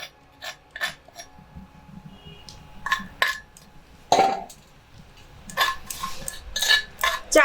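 A teaspoon scrapes and clinks against a metal pan, lifting cooked crumbs of kaste pora pitha batter into a bowl; intermittent short metallic scrapes and taps, close and moderately loud, with no talking.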